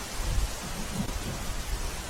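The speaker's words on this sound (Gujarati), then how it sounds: "ધોધમાર વરસાદને કારણે શહેરના અનેક વિસ્તારમાં જળભરાવ થયો છે" Heavy rain pours down in a dense, steady roar, with low rumbling underneath and no voices, flooding streets in Palanpur, Gujarat.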